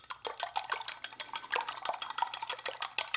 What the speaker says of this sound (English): grab yourself a whisk and just whisk those eggs a little bit.